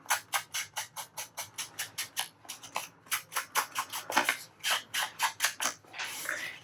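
Paper edges being inked for a handmade blue junk journal: a close, quiet run of rhythmic scraping strokes, about three per second, with no talking.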